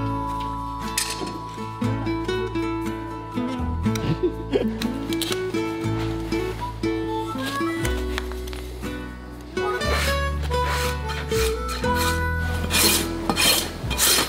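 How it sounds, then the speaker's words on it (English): A farrier's rasp files across a horse's hoof during a trim in repeated rough strokes, close and clear, with a low steady hum and a few ticks underneath and no talking. "we've got Victor over here who's in dire need of a trim"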